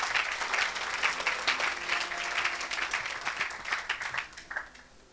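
Congregation in a church service applauding for Jesus, dense sustained clapping from a crowd that gradually thins and fades toward the end.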